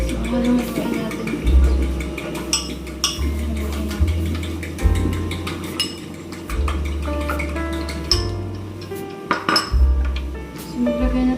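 Bitter gourd (ampalaya), garlic, onion and egg being stirred together in a bowl, with a utensil clinking and scraping against the dish in repeated close strokes, and a low hum running underneath.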